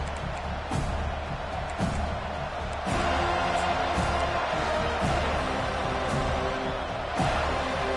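Florida State Seminoles home football stadium crowd roaring after the opening kickoff, a broad, distant wash of cheering with sharp thuds popping through it.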